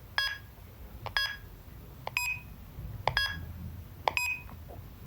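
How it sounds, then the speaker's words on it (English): Key alarm on a BrailleNote Empower braille notetaker goes off, a series of short sharp electronic beeps in pairs repeating roughly once a second over faint room noise. "It just sets off the alarm for no apparent reason."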